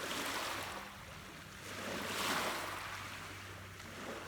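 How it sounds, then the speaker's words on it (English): Strong waves surge in on a shore, a close, continuous roaring wash that swells and recedes in slow pulses, with wind buffeting the microphone. "water's coming in strong as I'm saying this."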